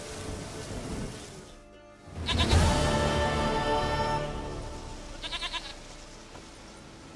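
A goat in The Witcher III bleats loudly and close by, one long wavering cry after a brief pause in the ambient game soundtrack, then softer rhythmic pulses fade into the background.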